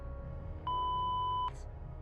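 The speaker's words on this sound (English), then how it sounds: "obscenities were covered by another beep" A single steady electronic censor beep blots out swearing for just under a second, loud and clean against a faint background hum, with no other voices.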